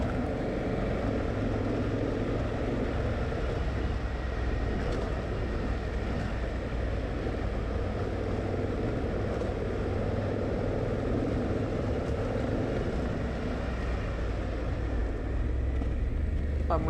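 Honda Africa Twin DCT motorcycle in S1 mode riding an off-road track, its engine a steady low drone with wind and road rumble throughout, no clear revving peaks and no talking.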